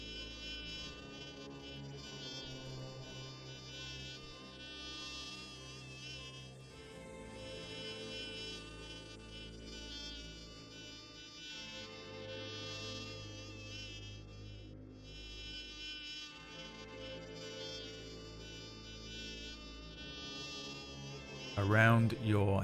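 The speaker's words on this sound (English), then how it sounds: "Buzzing sound." A loud, continuous buzzing like a housefly, played as a sound effect during a live tabletop fantasy game, droning steadily for about twenty seconds before a sudden louder burst at the end.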